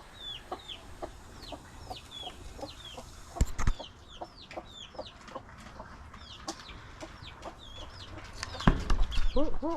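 Small chicks, orange ones among them, chirp in quick, repeated high peeps throughout, with a few louder knocks and brief clucking from bigger fowl nearby.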